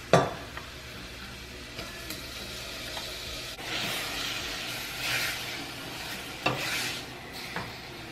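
Cauliflower rice stir-fried with Creole mix in a pan for a low-carb beef stir fry, a steady broad sizzle with occasional scraping and clinks of a utensil against the pan, close and moderately loud.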